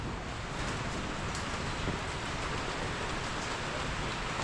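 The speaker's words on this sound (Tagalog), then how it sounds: "Hindi pa kami pinagbigyan na matapos yung bubong bago umulan." Steady rain pours down on a house construction site with an unfinished roof, a dense continuous hiss of falling drops at constant loudness, with no talk.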